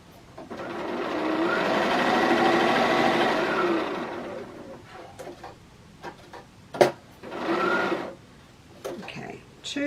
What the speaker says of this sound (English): So I'll sew across the edge here